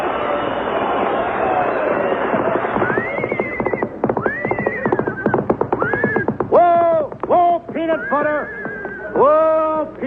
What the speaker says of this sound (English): It's a horse, isn't it? Certainly it's a horse.